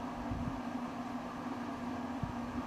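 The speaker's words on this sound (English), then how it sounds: "That what you're hearing now is the cool down fan." The cool-down fan of an infrared heater hums quietly and steadily with a constant low tone, the whir holding even throughout with a faint click near the end.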